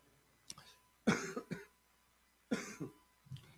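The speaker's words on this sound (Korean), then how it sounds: "기침이 이게 다 난 줄 알았는데 안 났네요" A preacher coughs during a church sermon, a few sharp close coughs in quick bursts separated by short quiet gaps.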